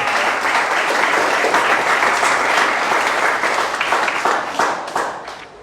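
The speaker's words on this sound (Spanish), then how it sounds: "Dele fuerte aplauso al Señor." Church congregation applauding loudly and steadily in a dense, continuous wash of clapping that fills the room, tapering slightly toward the end.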